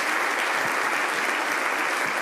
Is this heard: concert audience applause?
yes